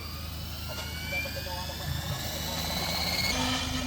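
An RC model helicopter flies at a radio-control meet, its rotor and motor a steady whine and hum, moderately distant and fairly quiet.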